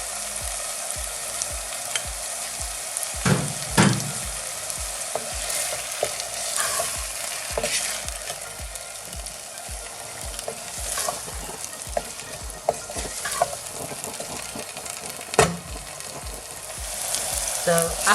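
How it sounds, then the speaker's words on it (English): Lamb keema curry frying in a pan over high heat, a continuous sizzle with scraping stirring strokes and occasional utensil knocks against the pan. "Just going to give it a mix."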